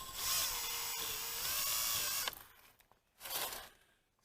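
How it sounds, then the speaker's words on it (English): Wire brush on a power tool scrubbing an aluminum engine part from a 1967 Pontiac Catalina, a loud close whirring grind for about two seconds, then spinning down, with a shorter burst of brushing after a pause. "Yeah, wire brush time."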